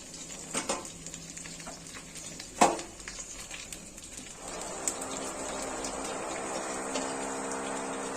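Pieces of shol fish fry in hot oil in a pan, a soft steady sizzle that swells after a few scattered clinks and taps of a utensil.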